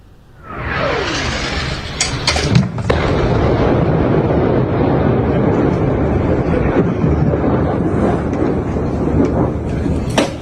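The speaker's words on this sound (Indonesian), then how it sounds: "Ledakan dan kepulan asap terlihat di langit kota Var Jos, Lebanon Selatan." A heavy blast erupts, then a sustained loud rumbling roar with crackling bursts continues, like explosions echoing across a wide outdoor area, during an Israeli strike on a town in southern Lebanon.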